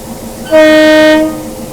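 A meter gauge train on the Junagadh to Veraval line through the Gir forest sounds its horn in a single loud, close blast of under a second, over low background rumble.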